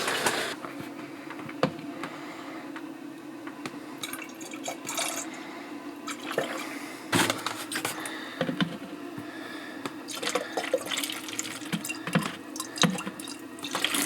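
Liquid trickles and drips steadily as antifreeze is siphoned out of plastic jugs into an RV winterizing setup using a Camco pump converter kit, a continuous close watery wash with scattered splashy bursts and a low hum underneath.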